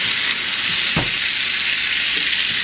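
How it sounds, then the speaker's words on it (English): Butter hisses and crackles steadily in a hot cast iron pan while a steak is basted, with one brief low thump of the spoon or pan partway through and a dense, close sizzle throughout. "We're going to add another little pat of butter in there."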